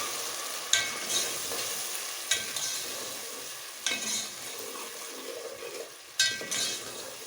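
Chopped tomatoes and green chilli sizzle steadily in a pan for restaurant-style moong dal tadka, with a few sharp scraping stirs landing at intervals over the continuous frying hiss; no one speaks.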